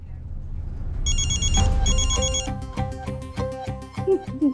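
A telephone rings with a bright, repeating bell pattern over background noise and music, growing busier as it continues.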